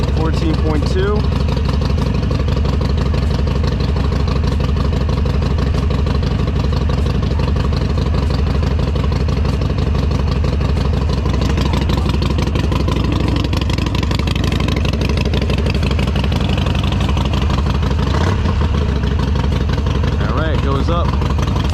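Harley Davidson Sportster engine idling after a new battery install, a loud, close, steady lumpy rumble running throughout, with someone talking over it.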